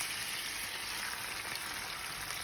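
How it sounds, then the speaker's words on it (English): Carne asada meat fries in oil with a steady, dense crackle and hiss, an even sizzle like light rain that holds at a constant level throughout with no talk. "We just want like the meat to let out all its juice right here with the oil."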